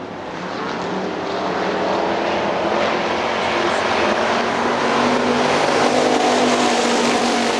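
Factory stock race cars thunder around Hartford Speedway in a continuous loud engine roar from the pack that swells slightly as they pass.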